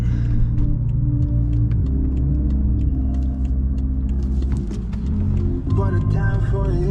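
A 600-horsepower BMW M5 on a backroad drops through gears, its engine rumbling loud and deep with shifting pitch as it revs between shifts, heard close from inside the car.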